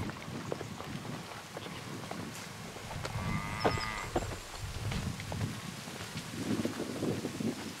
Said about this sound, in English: Here are some Irish cows, if you don't believe me.